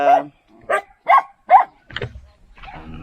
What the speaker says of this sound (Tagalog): Mga tropa lang nating aso meron dito.